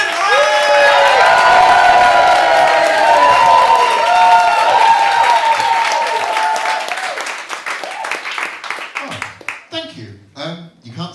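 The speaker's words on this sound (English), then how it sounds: "Please start that round of applause." A comedy show audience bursts into loud, dense applause with cheering and whoops, which gradually thins into scattered claps as it fades away.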